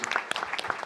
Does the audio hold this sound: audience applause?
yes